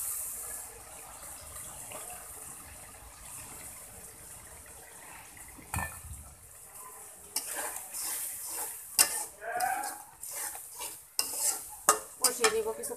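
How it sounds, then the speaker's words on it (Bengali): Shrimp and green chilies stir-frying with spices in a pan: a quiet, low sizzle at first, then repeated close scraping and clattering stirring strokes over a light frying hiss, with no talking. "কষিয়ে নিব কিছুক্ষণ, কষতে থাক।"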